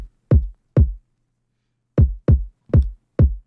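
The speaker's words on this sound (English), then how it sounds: "I'm using another one of these free kicks from that beat pack." Free kick drum sample from a beat pack, part of a hip-hop beat, hits in a sparse pattern: two close thumps, a pause, then four more evenly spaced, each deep, punchy and dry with a quick decay, heard alone.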